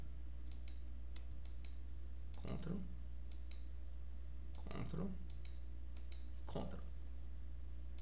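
Computer keyboard keys clicking at a desk while working in SQL Server, several sharp light taps in short clusters over a steady low hum, with a voice murmuring between them.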